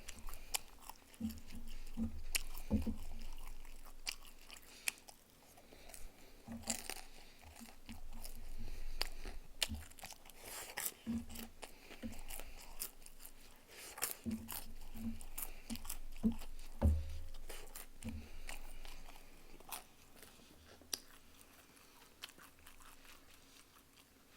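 Close, quiet chewing and crunching of Chinese food, jjamppong, jjajangmyeon and tangsuyuk, in irregular bites and soft mouth sounds across the stretch, with no talking.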